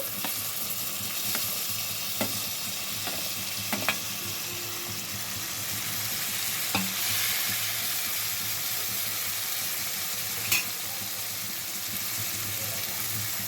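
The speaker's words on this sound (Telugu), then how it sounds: "కట్ చేసుకున్న టమాటాలు, పెద్ద సైజు టమాటాలు ఒక 3 వేసానండి." Three large chopped tomatoes fry in ginger garlic paste for an old-style tomato gongura curry. A steady loud sizzle runs throughout, broken by occasional light clicks and scrapes from stirring.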